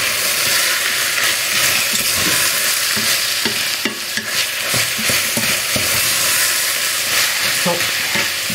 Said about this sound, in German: So, einmal umrühren.